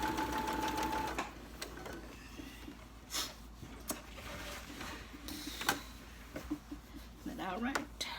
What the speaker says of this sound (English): you come back and sew it together just like you sewed it together at the beginning